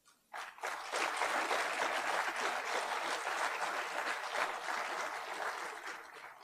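Applause breaks out abruptly from a university audience for a speaker, a full burst of many hands that swells quickly and then carries on steadily for several seconds.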